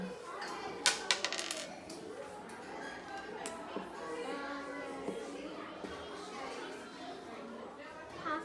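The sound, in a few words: dice being rolled for a game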